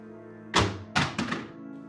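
A gun tossed down lands on a floor in a thriller scene, giving a heavy thunk followed by a couple of quick clattering bounces against a steady background hum.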